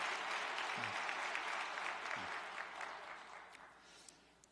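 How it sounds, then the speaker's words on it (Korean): A church congregation claps steadily, a dense patter of applause that gradually thins and fades toward the end. "우리 모두를 위해서도 감사의 박수를 보내십시다"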